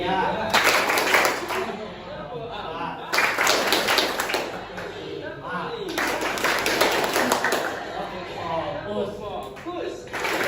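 A classroom of students standing and clapping in a counted pattern, with three distinct bursts of sharp, fast claps separated by brief pauses, close and fairly loud, with some talk between bursts.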